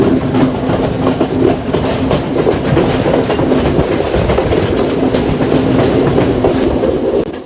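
A train on the Colombo to Badulla line in Sri Lanka rumbling past close by, loud and steady, with rhythmic clickety-clack of wheels over rail joints throughout and no voices.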